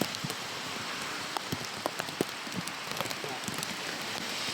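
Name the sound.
rain falling outdoors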